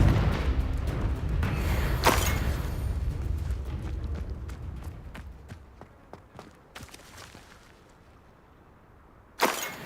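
A Confringo blasting spell goes off in Hogwarts Legacy, a broad booming roar at the start with a sharp burst near two seconds, trailing into scattered crackles and thuds before a final loud crack at the end.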